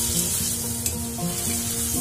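Vegetables sautéing in a pan with mustard-poppy paste, a steady hiss under a stirring scrape, with faint musical tones in the background.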